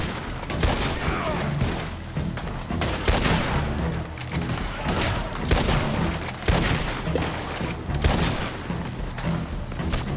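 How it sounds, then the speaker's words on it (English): A Winchester 1866 rifle fires in a Red Dead Redemption 2 shootout during a jail break. Loud, booming shots come in rapid, irregular bursts amid a dense gunfight throughout. "Considering this is a Winchester 1866, I can only assume that it's shooting a 45-70 round"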